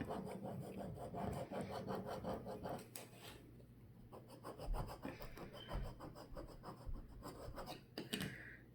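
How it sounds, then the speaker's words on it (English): Vinyl being scraped off a wooden Christmas ornament blank, a quiet run of short, rhythmic rasping strokes, dense at first, then sparser and uneven, close by with no talk. "So go ahead and scrape it."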